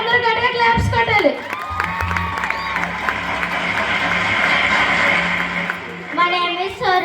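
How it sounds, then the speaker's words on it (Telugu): Loud audience applause and cheering at a Sunday school Christmas program fill the room, with children shouting and whooping over the clapping, which fades near the end as voices return. "వాళ్ళ అమ్మగారికి అందరూ గట్టిగా క్లాప్స్ కొట్టాలి"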